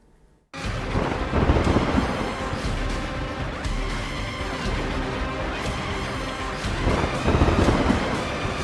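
Torrential monsoon rain in flooded Sawai Madhopur, Rajasthan, with rumbling thunder, a sudden loud onset into a dense continuous roar that swells and stays heavy, with no voices.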